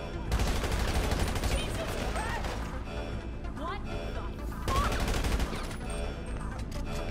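Rapid gunfire from aerial shots in Grand Theft Auto V's Doomsday Heist server farm mission: sustained bursts of shots, loud and steady throughout, with voices talking excitedly over the shooting.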